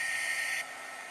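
A hair dryer or heat tool blows a steady, close hiss over a watercolor card, and the airflow drops to a lower setting partway through the brief burst.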